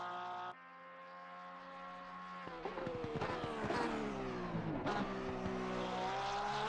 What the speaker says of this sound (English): We heard the engine almost bogged down a little bit there.